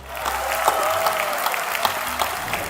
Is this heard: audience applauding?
yes